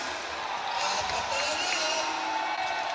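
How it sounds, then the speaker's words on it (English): A basketball crowd at a Palarong Pambansa 2025 semifinal between Davao region and CLRAA cheers in a steady, distant roar, a broad hum of voices with occasional court thumps. "Crowd getting into it now."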